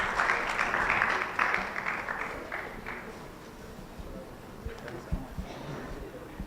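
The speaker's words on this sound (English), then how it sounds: "why don't you give a big round of applause to all these panelists" Applause for panelists at the close of an industry panel session, strongest at the start and then thinning to scattered claps, with speech faintly underneath.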